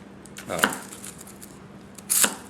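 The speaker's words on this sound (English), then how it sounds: "let's have a peek at how she does on chopping onions today" Two crisp chopping strokes of a Goko White #1 240 gyuto knife cutting through onions on a cutting board, each a sharp close knock with a short slicing edge, spaced about a second and a half apart in a quiet kitchen.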